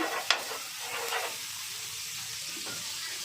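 Amul butter sizzles in a hot pan with a steady, fairly quiet frying hiss close by, broken by one sharp clink near the start.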